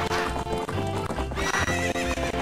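A horse in The Legend of Zelda: Majora's Mask whinnies loudly while its hooves clop in a quick, steady rhythm, the neighs rising clearly over the hoofbeats.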